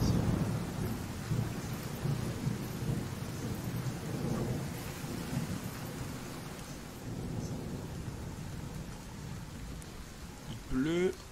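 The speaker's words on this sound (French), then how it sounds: "Il pleut." Steady rain falls with rolling thunder in Resident Evil 4 Remake, a continuous moderate hiss with low rumbles, joined near the end by a brief higher-pitched game sound.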